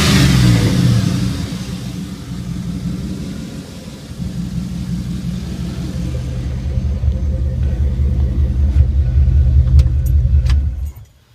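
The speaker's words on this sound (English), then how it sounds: "The truck runs freaking awesome." A 1948 rat rod truck engine rumbles loudly close by, its revs climbing partway through before it cuts off abruptly at the end.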